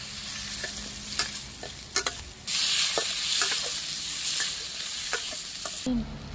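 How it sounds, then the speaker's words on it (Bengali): A semolina breakfast snack mixture stirred in a hot pan with salt, giving a loud, constant sizzle broken by repeated scraping knocks of the spoon, close up with no talk. "ভালো করে একটু নাড়ি চাড়িয়ে নেব"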